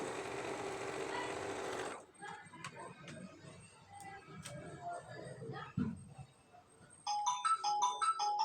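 A sewing machine stitching a patchwork pillow cover made from scrap fabric runs in a loud, fast, whirring burst for about two seconds, followed by quieter clicks and clatter and then a melodic electronic tone near the end.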